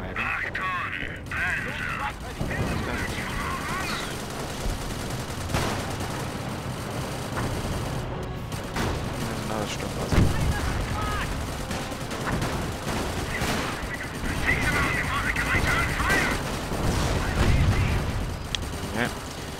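Artillery bombardment in the Company of Heroes World War I mod rumbles continuously, with dense overlapping explosions and gunfire forming a loud, chaotic battle din beneath a speaking voice.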